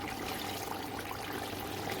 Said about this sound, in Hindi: अब हम इसमें 2 कप पानी डाल के